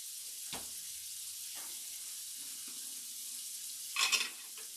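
Garlic hits a hot pan with a brief louder burst of sizzling near the end, over a steady low frying hiss and a few soft stirring knocks.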